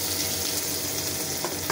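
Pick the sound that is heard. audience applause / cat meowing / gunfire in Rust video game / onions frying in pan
onions frying in pan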